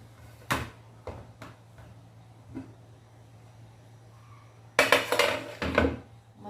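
A pressure cooker lid is opened while cooking beef nihari: a few sharp metallic clicks and knocks, then a burst of clattering pot and lid noise near the end, close by with no talking.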